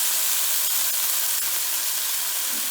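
Marinated chicken searing in a hot pan, giving a steady, close sizzle and hiss that runs unbroken throughout.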